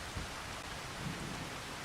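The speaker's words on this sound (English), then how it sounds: "it's raining right now" Steady rain pours over a pig farm during a storm, with a low rumble of thunder under the continuous broadband hiss and no voices.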